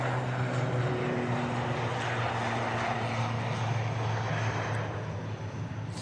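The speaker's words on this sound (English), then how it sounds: "Emerald Air is just beginning its takeoff roll there." An Emerald Air airliner begins its takeoff roll at Manchester Airport, departing for Dublin, giving a steady loud engine roar with a low droning hum that holds throughout and eases slightly near the end.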